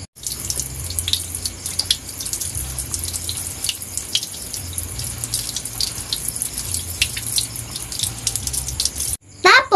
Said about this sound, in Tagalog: Una po ay hinugasan namin ang saging.